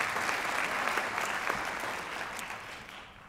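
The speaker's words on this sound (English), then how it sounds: "Let's give him a round of applause." An audience at a school district's outstanding teacher awards applauds the absent board president, a soft, steady round of clapping from a seated crowd, fading slightly toward the end.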